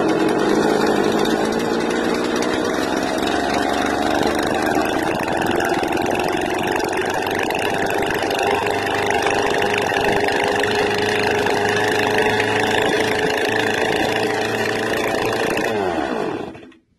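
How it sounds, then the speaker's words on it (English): A rebuilt STIHL string trimmer engine runs for a long stretch, a loud, close, steady buzzing idle with little change in pitch, then cuts off abruptly at the end. "when we start the engine, you notice a lot of smoke coming out of the tailpipe"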